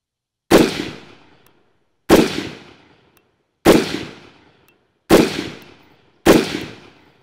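Five loud rifle shots, fired through a red dot optic at a range, crack at an even, unhurried pace, each followed by a short decaying echo, with silence in between.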